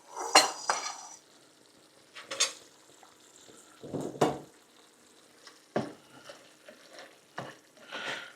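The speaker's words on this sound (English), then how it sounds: "Season them up, drop them in the pan." Seasoned, tail-on shelled shrimp go into a hot pan in a few separate drops, each setting off a brief sizzle along with clattering pan and utensil knocks between quieter gaps.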